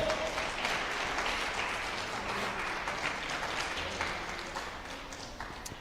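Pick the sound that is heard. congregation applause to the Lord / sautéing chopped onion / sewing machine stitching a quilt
congregation applause to the Lord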